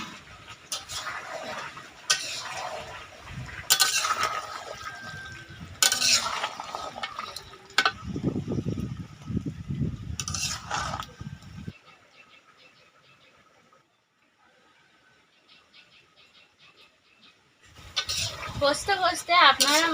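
Country chicken curry with potatoes and ground spice paste being stirred in a pot, with spoon-on-pot scrapes and clatter in irregular bursts, a quiet stretch midway, then louder stirring again.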